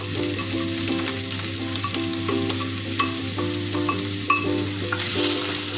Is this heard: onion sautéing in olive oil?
yes